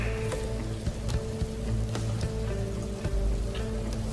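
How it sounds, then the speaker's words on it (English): Rain falling steadily at the opening of a film, a dense patter of drops with faint crackle over a low rumbling background, continuous throughout without any speech. "who doesn't love a film that begins with rain?"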